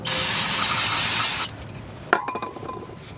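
A brief loud hiss of Fluid Film rust inhibitor sprayed from an aerosol can onto the rear brake hub of a 2011 Nissan Altima, followed by a metallic clink and faint rattling.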